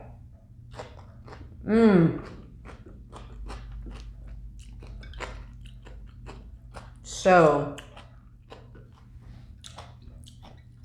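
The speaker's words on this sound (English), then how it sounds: "so crunchy. For me, crunchy pickles are an absolute must." Two loud crunchy bites into crisp pickled cucumber, spaced several seconds apart, with a person speaking softly throughout.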